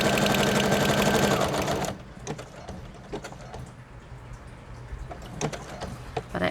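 A sewing machine stitches pockets in a steady, loud mechanical whir for about two seconds, then stops, leaving quiet handling clicks and rustles.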